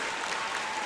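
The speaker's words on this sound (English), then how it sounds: "we need an applause for that too" An audience at a graduate commencement ceremony applauds in a steady, even wash of clapping from many hands, heard only for a brief moment.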